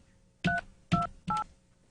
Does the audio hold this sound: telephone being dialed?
yes